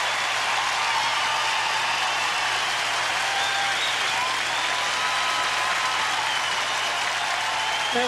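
Steady, full applause from a theatre audience at a performance fills the whole stretch, a dense unbroken wash of clapping with a faint low hum beneath.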